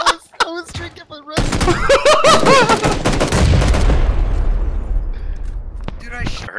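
Gunfire in a shooter video game: a sustained, loud burst of rapid shots with booming reverberant tails, with excited player voices talking over and around it.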